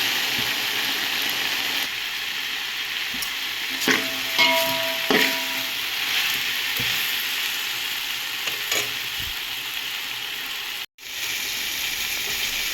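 Okra curry seasoned with chili powder simmers in a pan, giving a steady soft sizzle with occasional scraping and clinks from stirring; moderately close, no talk.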